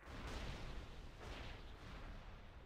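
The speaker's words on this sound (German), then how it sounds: "um die Türe aufzubekommen, müsst ihr einfach hier die Kanone benutzen. Bam." Cannon firing to blast open a door in the video game World of Warcraft, a heavy booming blast followed by a second rumbling burst, loud and close with no talk.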